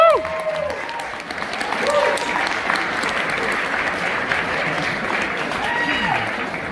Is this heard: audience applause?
yes